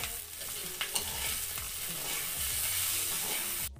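Ingredients sauté in a pan for an Ilocano kuryat dish, a steady sizzle with repeated scraping stirs and a couple of sharper clinks, loud and close with no talking.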